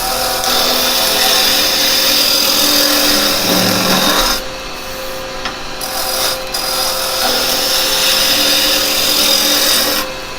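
Woodturning lathe cutting a spinning wood blank, a steady loud scraping, rasping drone of the tool on the wood with a brief dip midway, continuous and close with no talking.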